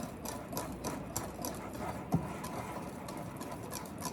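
Electric hand mixer whirring through chocolate cake batter, a faint, steady buzzing drone with light rhythmic rattling and a single soft knock midway.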